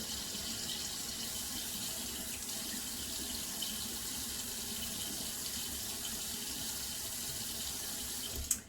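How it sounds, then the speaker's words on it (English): Tap water runs steadily from a household faucet into a sink, a constant close hiss and splash with no pauses, ending with a brief clunk as it is shut off. "I'll just use water from the faucet."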